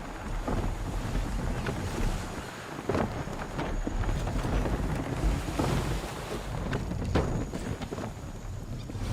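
Gusting wind at sea aboard a sailing ship in Assassin's Creed 3: a continuous, loud roar of wind and rushing water with creaks and thumps from the vessel.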